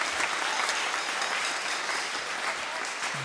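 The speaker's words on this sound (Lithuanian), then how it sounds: "te skamba plojimai maestro Albinui Kučinskui" An audience at a concert applauds in a dense, steady burst of clapping that holds at an even level from start to finish, with no voices.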